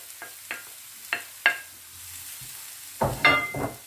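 A spoon scrapes and stirs a mixture in a frying pan for Tunisian southern mtabga, giving several short, distinct scraping strokes followed by a louder, busier cluster of stirring near the end.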